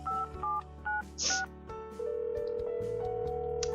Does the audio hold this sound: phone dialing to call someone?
yes